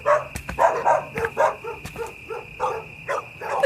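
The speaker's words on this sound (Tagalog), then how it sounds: "Tinatahulan siya ng mga aso." Dogs bark repeatedly and close at an old woman in a Filipino rural neighborhood, a string of loud, rhythmic barks and yips in quick bursts with no talk over them.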